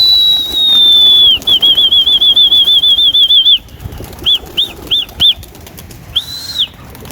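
Low-flying homing pigeons released for exercise, with a steady whistling tone from their wings passing close, then a rapid fluttering run and a few separate whistling swooshes as the flock circles back.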